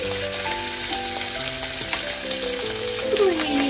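Chicken meat, chilled for an hour, frying in oil in a preheated pan gives a steady close sizzle throughout, with faint tonal sounds running in the background.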